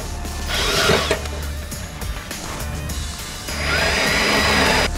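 Ratchet tightening bracket bolts during a 4.5-inch Carli Pintop installation on a Restomod truck, a steady run of close, loud clicking with a brief pause and then a strong final stretch, no voices.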